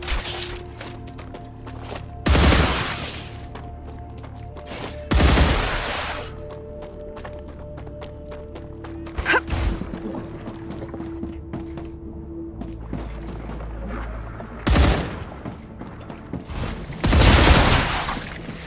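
Gunfire in the video game StarRupture comes as several loud, sharp bursts spaced a few seconds apart, with quieter game ambience and faint clicks in between.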